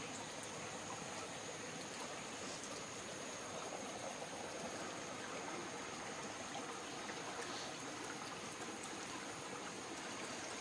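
Steady rushing of water flowing through a farm field, continuous and fairly close, with a low rumble underneath and no voices.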